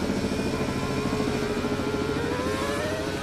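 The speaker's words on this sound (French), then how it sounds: "Oh, moteur qui est sauté" A Formula 1 Jordan car in qualifying at the 2002 Canadian Grand Prix as its engine fails: a steady, loud mechanical roar with a whining tone gliding upward through the clip, heard alone without speech.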